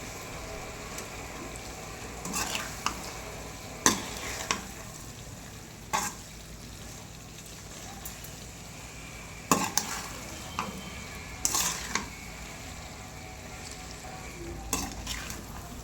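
A spoon stirs prawns with masala in a sizzling pan, scraping and clinking at irregular intervals over a steady frying hiss, with no talk.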